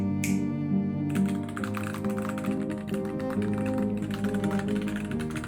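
Typing on an Epomaker Carbon 60 low-profile mechanical keyboard with double-shot keycaps: a steady stream of quick, close clicks and taps from fast keystrokes over a faint background hum, with no talk.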